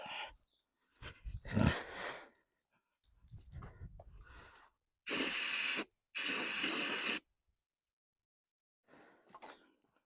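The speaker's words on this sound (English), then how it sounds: "Where's my brake cleaner?" Brake cleaner is sprayed onto leaking Dodge brakes in two loud, close bursts of hissing spray, each about a second long, separated by a short pause and surrounded by quieter workshop noise and brief voices.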